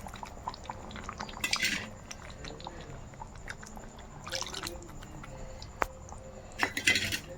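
Masala water poured into simmering green chicken curry in a pot, with clinks of a spoon against the vessel, short splashy bursts of liquid and quiet bubbling throughout.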